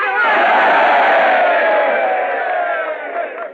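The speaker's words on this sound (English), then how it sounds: "A cheer for the little lady." A large crowd of men in an Old West town roars a hearty cheer for a lady, a loud, sustained group shout that swells at once and slowly fades over a few seconds.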